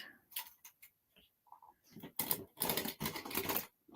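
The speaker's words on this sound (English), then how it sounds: "I'm actually using a permanent tape runner." Permanent tape runner pressed along paper for a foiled napkin ring craft, a series of short close clicking and scraping strokes, quiet and sparse at first, then denser bursts.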